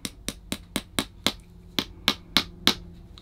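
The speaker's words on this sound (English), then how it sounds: "give it a little encouragement with the hammer" A hammer taps a leather shoe upper on a last, ten or so crisp, evenly spaced knocks in a steady rhythm, close and clear with no talk.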